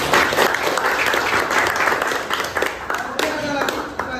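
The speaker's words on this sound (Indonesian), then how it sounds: "Oke, tepuk tangan dulu, anak." Students clap together in a classroom, a broad, steady wash of applause that thins into scattered individual claps toward the end, with a voice faintly audible underneath.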